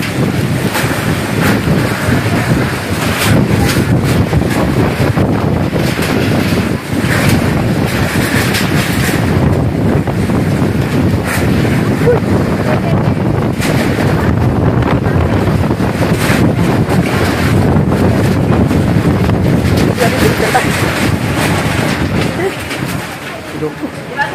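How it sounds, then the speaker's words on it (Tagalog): Strong typhoon wind buffeting the microphone with a loud, continuous rumbling roar, gusting unevenly, with water and waves faintly beneath and voices speaking at times. "Kusok ang hangin, ha?"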